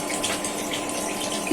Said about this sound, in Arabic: بدي احط مي